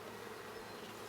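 Mountain Grey Caucasian honeybees on a foundationless comb make a faint, steady, even buzzing hum that holds without a break.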